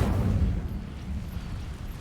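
The Incendio fire spell is cast on dry vines in the Hogwarts Legacy video game, a low, rumbling whoosh of flame that fills the short moment, loud at the start and then holding steady, with no talking.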